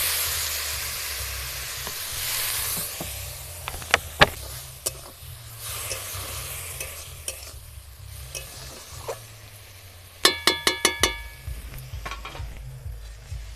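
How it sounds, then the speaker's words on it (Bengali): Water splashes into a hot pan of lentil spice mix, with soft sizzling and hissing, a few sharp clinks of a utensil against the pan, and a quick burst of metallic taps near the end, all quiet and without talk. "প্রথমে সামান্য একটু জল দিয়ে দেব।"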